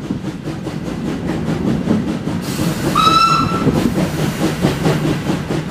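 A boat train gathers speed with a rhythmic clickety-clack of wheels over rail joints, and a horn sounds briefly partway through.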